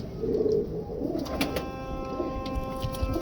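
Several pigeons coo in a low, throaty chorus at close range, with Grey Parrot Chanda Khani pigeons of the Imam Din breed in a Karachi pigeon loft. The cooing runs steadily throughout alongside light rustling.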